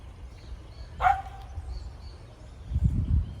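A single sharp dog bark rings out at moderate distance in the Botanical Gardens in Guyana, over low outdoor background noise and rustling.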